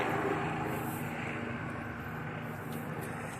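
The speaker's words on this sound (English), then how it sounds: "these airplanes flying is just a reminder that we really don't control anything" Airplanes fly overhead outdoors, a steady, broad engine roar at moderate distance that holds throughout, slowly fading slightly, with no talk.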